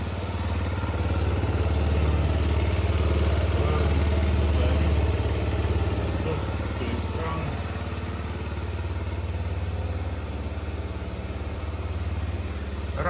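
A fuel-injected Yamaha Gear scooter engine idles steadily indoors, a continuous low mechanical hum with a faint clatter that stays even throughout.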